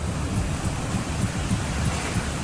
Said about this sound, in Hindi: जलधारा का ये शोर पर्यटकों के सीने में खौफ पैदा कर रहा है।